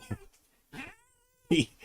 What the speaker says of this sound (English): Oh, we got a kitty.